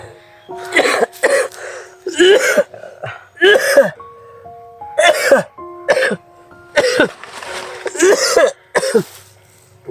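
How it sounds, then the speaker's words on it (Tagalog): Repeated harsh coughs in quick succession, loud and close, with steady tones of a melodic jingle playing underneath. "Ubo ko."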